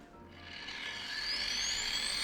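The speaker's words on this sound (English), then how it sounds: "then Dan started in with the sawing" A saw cutting through a granite boulder outdoors while shaping a rock chair, giving a steady loud grinding whine with a rising high pitch, close and continuous.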